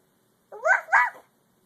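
A voice imitates a dog with two quick, close barks, "woof woof," against silence.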